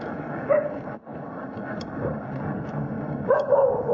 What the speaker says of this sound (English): Dogs are getting excited, like they always do.